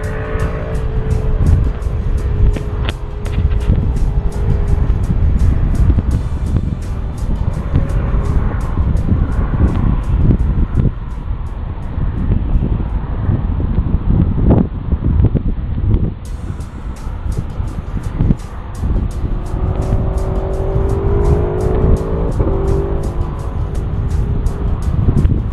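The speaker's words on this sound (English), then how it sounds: "There's a motorcyclist overtaking a van into the bungalow bridge, the Grey Memorial, and heading up towards the bungalow." A motorcycle runs on the Snaefell mountain road on the Isle of Man near the Bungalow and Grey Memorial, a steady distant engine drone with passing swells over strong wind, overtaking a van on the climb.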